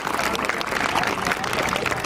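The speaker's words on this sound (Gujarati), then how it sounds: "તો આપણે સૌ એમને તાળીઓથી વધાવશું" A school audience at a village primary school cultural programme claps to welcome guests, a dense, steady wash of applause filling the whole moment with crowd murmur mixed in.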